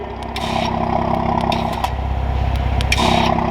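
Widebody Toyota Supra exhaust revving with both valves open, a loud, close, sustained raspy engine roar that holds steady for several seconds and swells slightly near the end.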